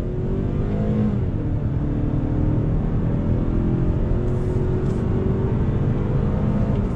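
A 2021 Mazda 3 with a naturally aspirated engine pulls hard in sport mode, its steady loud engine drone climbing through the revs with a smooth shift, heard from inside the cabin without talk.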